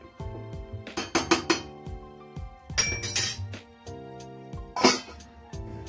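A metal lid goes onto a pot of Punjabi-style Kasturi chicken curry after stirring, producing a series of sharp metallic clanks and clinks in irregular bursts, close and fairly loud, without speech.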